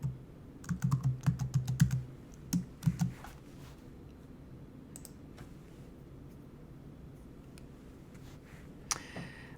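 Password typed on a computer keyboard, a quick burst of close, crisp key clicks in the first few seconds, then near silence with a few scattered taps.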